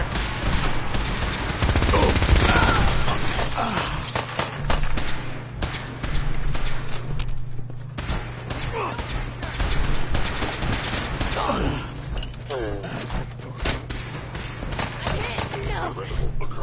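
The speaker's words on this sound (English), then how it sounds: "Taking fire!" Video game gunfire in Fallout 4 crackles in dense, sustained volleys of loud rapid shots, with voices calling out over the firing.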